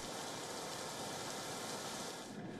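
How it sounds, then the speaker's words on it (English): Record heavy rain falls on Japan's quake-stricken Noto Peninsula, heard as a dense, constant hiss of downpour with no voices. "Record rains in Japan's quake-stricken Noto Peninsula have wreaked havoc."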